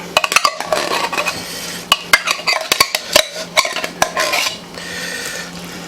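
A utensil spreading chili over cream cheese scrapes and clinks against a dish in quick irregular strokes, sharp metallic taps and smears close by, easing into softer scraping near the end.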